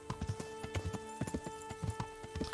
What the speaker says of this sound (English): our horsemanship's gonna go up while we're riding the horse